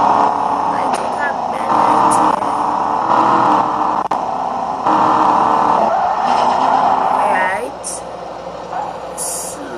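A high-horsepower car is driven hard through a bend, its engine droning loudly and steadily with tyre noise, while people talk over it.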